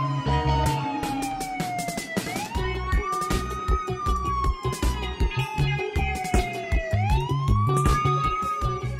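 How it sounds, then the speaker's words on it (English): A police car siren in a Roblox game wails in long rising and falling sweeps, loud and continuous, over a busy clatter of game sounds and effects. "Police car, let's go! I drive home!"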